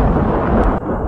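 A brief, loud burst of deep thunder rumbling, broad and heavy, with no voices.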